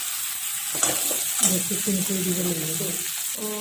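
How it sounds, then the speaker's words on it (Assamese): Ginger, garlic and green chilli paste sizzles steadily in a hot pan while being stirred, with scraping utensil sounds and a voice speaking over it briefly. "আদা, নহৰু, কেঁচা জলকীয়া বটাখিনি দি দিম।"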